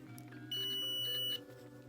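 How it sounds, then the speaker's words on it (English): A multimeter set to continuity gives one steady electronic beep that lasts a little under a second, close by against a quiet room hum, while testing the connections of an LED strip light. "you need to set your multimeter on continuity"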